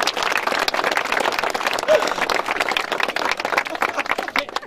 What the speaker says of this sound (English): A round of applause for Tubber.